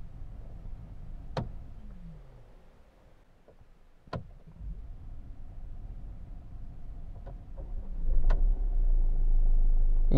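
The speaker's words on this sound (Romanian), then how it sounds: "Deci eu am pornit motorul acum fără să am piciorul pe frână." A Mercedes-Benz CLA 200 CDI diesel with 7G-DCT automatic gearbox: a few sharp clicks, then the engine cranks and settles into a quiet, steady idle heard from inside the car.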